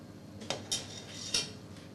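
A metal ladle clinks against a soup pot while hearty, velvety soup is served into a bowl, giving three short, bright knocks spread over a quiet background.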